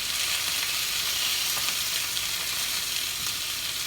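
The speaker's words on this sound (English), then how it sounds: "they probably only need a searing for maybe 2-3 minutes max" Meat sears in a hot pan, giving a steady, close, crackling sizzle that continues without a break and with no talk.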